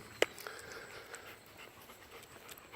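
A dog pants softly and rhythmically nearby, with one sharp brief click near the start and otherwise steady, quiet breaths with no talking.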